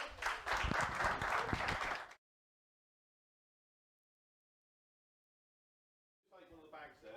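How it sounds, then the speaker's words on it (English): A seminar audience breaks into applause for about two seconds of dense clapping, then it cuts to silence before a voice starts talking. "Round of applause for Nick."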